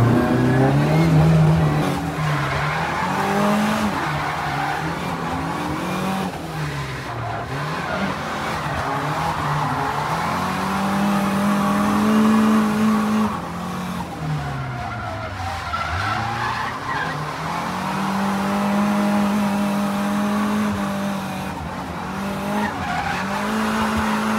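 Drift car driving and skidding at La Chapelle du Bard: a loud engine drones and rises and falls in pitch as tyres squeal and scrub through long slides, heard close and continuous for the whole stretch with no talk.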